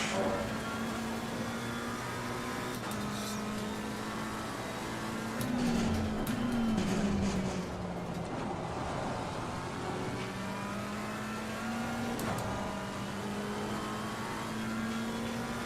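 Race car engine in Assetto Corsa Competizione during Bathurst practice, revving and accelerating through gears with a loud sustained drone, pitch rising and falling as the car shifts and pulls out of corners.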